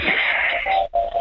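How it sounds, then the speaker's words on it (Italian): Heavy, forceful breathing over a phone line, a long raspy exhale with a wheezy, strained tone, briefly catching before a short second breath. "che respiro che hai fatto"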